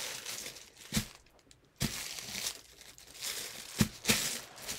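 Paper being folded for an origami dragon crinkles and crackles in a few sharp bursts close to the microphone, with quieter rustling between the creases.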